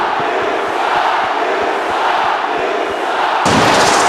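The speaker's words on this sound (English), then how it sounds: "Listen to the crowd here, the Ninja Stadium." A stadium crowd in a fighting video game at the Ninja Stadium roars and cheers continuously, loud and dense, with a sharper surge of noise near the end.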